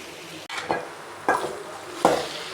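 Sautéed okra being stirred into masala in a pan for a Tirunelveli-style vendakai pachadi, with three distinct scraping strokes over a steady background sizzle, close and alone.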